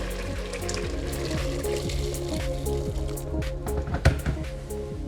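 About one and a half litres of water poured into a pot of bograch stew, giving a steady close splashing and gurgling pour with small bubbling plops throughout.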